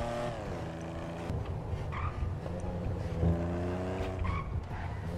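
Engine of a Mercedes-Benz AMG S63 in GTA V roleplay, a steady loud car drone with harmonic tones rising and falling as it revs and shifts, with tire squeal and skidding noises throughout.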